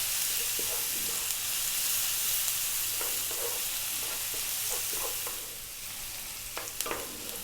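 Ginger and fennel seeds fry in a pan over high heat with a little salt, a steady close sizzle broken by scraping and tapping of stirring, easing slightly toward the end; no talking.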